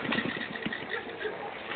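A motorcycle engine runs with a low, steady rumble, muffled and lo-fi, mixed with overlapping voices nearby.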